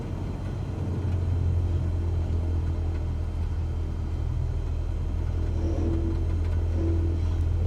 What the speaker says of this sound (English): keep revving your engine, buddy